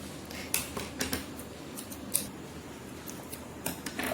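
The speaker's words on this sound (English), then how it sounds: "I've cut it out in the shape of a heart" Scissors cutting a heart shape out of a pink foam sheet for a craft diary, with quiet intermittent snips and soft rustling at close range.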